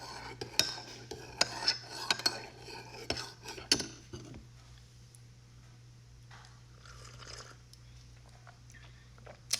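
A spoon clinks quickly and repeatedly against a cup while stirring tea, a bright close rattle for about four seconds that then gives way to near silence.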